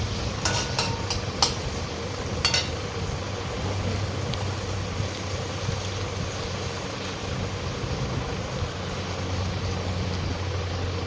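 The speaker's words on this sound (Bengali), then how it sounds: "পেঁয়াজ আর রসুন আর একটা শুকনো লঙ্কা দিয়ে লাল করতে হবে পেঁয়াজটা" Onion, garlic and a dried chili fry in hot oil with a steady, even sizzle that fills the whole stretch. A few light utensil clicks sound near the start, with no talking.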